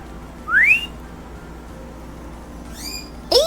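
A pet bird whistles in short rising notes indoors: one clear upward whistle early, a fainter cluster of chirpy whistles later, and a sharp note at the end, with no talk.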